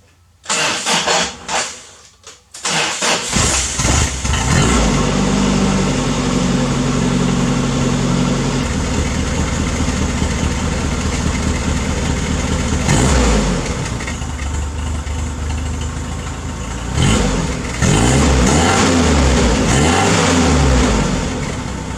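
A Toyota Hilux with a freshly repaired exhaust cranks with a few stuttering bursts, catches, and then holds a loud, close idle. Its engine swells through several revs, while a second louder rev pattern comes near the end.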